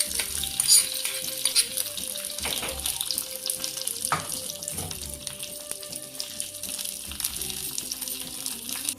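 Steady frying sizzle of tempering spices in a pan, with stirring and some clinking, continuous for several seconds with no talking.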